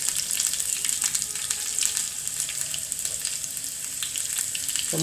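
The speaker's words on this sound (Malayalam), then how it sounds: "നമുക്ക് ഉള്ളി ഇട്ട് കൊടുക്കാം" Red shallots frying in hot oil in a pan after mustard seeds, a steady close crackling sizzle that holds throughout with no talking.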